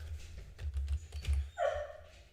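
A dog gives a few short barks and yips, with a whimpering, higher-pitched whine near the end, fairly faint and indoors-sounding, with no one talking.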